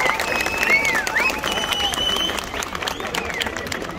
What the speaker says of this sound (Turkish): Güçlü alkışlar gelsin mi duyalım sizlerden.